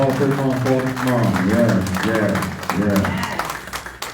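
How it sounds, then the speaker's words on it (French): An audience at a Haitian American business expo and gathering applauds for a few seconds, the clapping running beneath a loud speaking voice and music-like tones, with one voice calling out briefly. "Applaudissez fortement."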